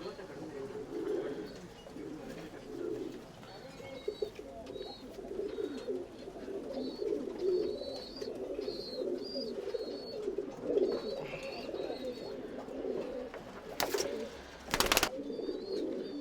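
Tumbler pigeons in a Bangalore loft coo in soft, repeated low murmurs, with faint chirps and bird calls over them and a couple of sharp handling knocks near the end.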